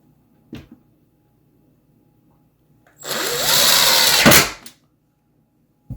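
A power drill driving a screw into a pantry door hinge, one whirring burst of about a second and a half that winds down at the end, set among quiet clicks and handling knocks.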